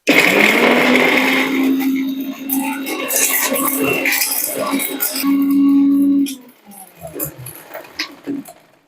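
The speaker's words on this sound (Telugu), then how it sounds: "దీన్ని ఇప్పుడు మనం మిక్సీ వేసుకుందాము" A mixer grinder whirs loudly and steadily for several seconds grinding cinnamon and cloves into tooth powder, then cuts off, leaving a few faint clatters and rattles.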